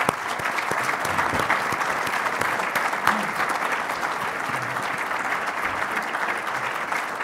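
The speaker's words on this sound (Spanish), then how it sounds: "permítame que diga en voz alta y les pida un aplauso" Sustained applause from an audience at a Fórum Europa event, steady and dense clapping filling the whole stretch at an even level with no pauses.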